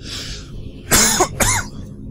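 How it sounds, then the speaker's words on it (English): Two harsh coughs close together, loud and near, over a quiet background hum. "Got a bit of the same cough my daughter has."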